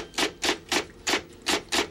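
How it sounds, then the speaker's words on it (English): A typewriter clacks in six rhythmic bursts, evenly spaced and close, each a short rough brushing tap standing alone without speech. "Tap, tap, tap. That's a typewriter."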